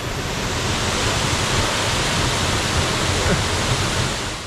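Cascades du Hérisson waterfall roars in a dense, unbroken broadband wash, loud and close, filling the whole stretch without variation.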